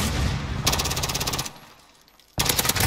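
Automatic gunfire in a first-person shooter video game: two loud, rapid bursts of machine-gun fire, the first lasting close to a second and the second starting at the end after a short quieter gap.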